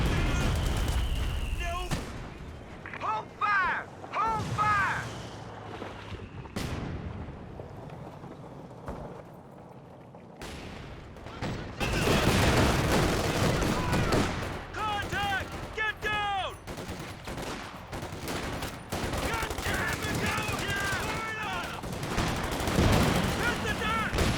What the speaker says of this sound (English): Taking some mortar shells over there.